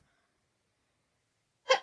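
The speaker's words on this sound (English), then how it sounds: "sorry guys, I gotta sneeze." A single short sneeze, abrupt and fairly close, after nearly two seconds of silence.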